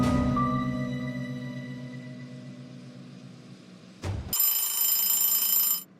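A telephone rings with a sustained electronic bell tone that fades, then a brighter, louder ringing burst follows after a short break, heard alone with no talk.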